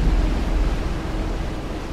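Storm-driven Pacific ocean waves roll in as a steady, dense low roar of surf, loud and continuous throughout, with some wind noise and no voices.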